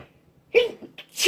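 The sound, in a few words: sneeze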